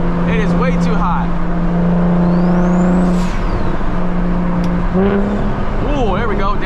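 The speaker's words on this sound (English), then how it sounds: "Oh, there we go, downshift." BMW 335is with a big turbo accelerating hard on a night drive, engine note rising steadily then dropping with a downshift blip before climbing again, loud from inside the cabin with a turbo whistle and a voice speaking over it.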